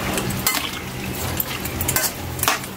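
Pork fries in a pan for pancit gisado while a utensil stirs and scrapes against the metal, with steady sizzling and a few sharper clanks along the way.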